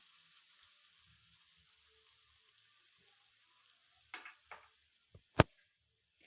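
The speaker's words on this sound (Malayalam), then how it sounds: "ചിക്കനിൽ നിന്ന് പകുതി പോർഷൻ എടുത്ത് എണ്ണയിലേക്ക് ഇട്ട് കൊടുക്കാം" Marinated chicken pieces shallow-fry in oil with a faint, soft sizzle at first, followed by a few sharp clicks and clatters near the end.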